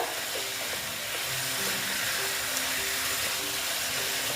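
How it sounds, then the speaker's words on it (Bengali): Steady sizzling of chopped banana flower frying in a pan on the stove, a continuous even hiss with faint stirring scrapes, no talking. "আমার এটা মোটামুটি কষানো হয়ে এসছে"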